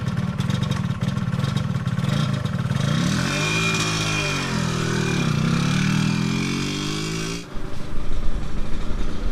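A 1995 Yamaha RXZ two-stroke motorcycle with its original exhaust idles close by, a steady buzzing drone that rises and dips briefly in pitch before settling, then turns rougher near the end.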